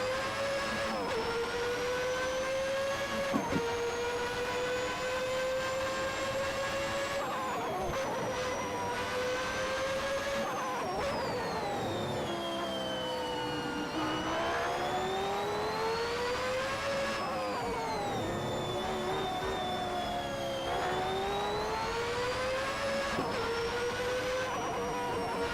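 A formula car's engine in a racing video game, Assetto Corsa or BeamNG, whines at high pitch, rising through the revs and dropping at each gear change or lift, repeating over about twenty-five seconds with no talk.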